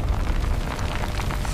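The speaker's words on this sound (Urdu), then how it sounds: "پھر زمین ہلکے سے کانپی" A low earthquake rumble sound effect in a dramatised telling of the destruction of the people of Aad, a dense continuous roar of deep tremor with scattered crackling, steady throughout with no voices.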